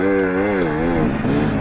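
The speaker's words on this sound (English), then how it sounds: "Bike sounds like it's running better" A dirt bike engine runs steadily and close on a Moab, Utah trail, with a loud, even drone that shifts slightly in pitch partway through and no voices.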